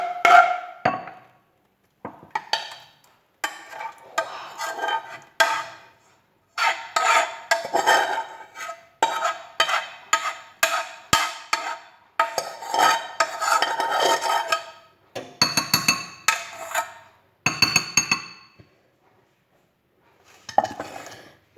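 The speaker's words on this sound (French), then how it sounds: "on met notre porridge" Apple porridge is spooned onto a plate with repeated scraping, clinking and knocking of a spoon against a pot and dish, coming in close bursts separated by short pauses.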